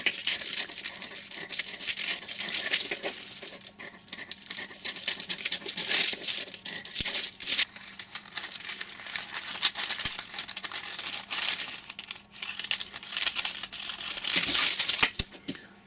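Scissors cutting a fabric front piece for a top, a continuous crisp snipping and crinkling texture, close and fairly quiet, with no talk over it.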